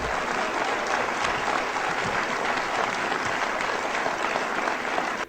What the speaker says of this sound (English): Notice everybody clapping.